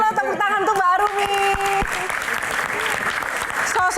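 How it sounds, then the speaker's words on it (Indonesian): A studio audience applauds a guest named Arumi on a Q&A talk show, a full burst of clapping rising after a brief musical sting and holding steady, loud and close, with a voice over the start. "Kita berikan tepuk tangan yang luar biasa untuk Mbak Arumi"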